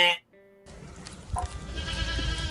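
A sheep gives a short, loud bleat right at the start, then a quieter background of rustling and muffled sounds follows.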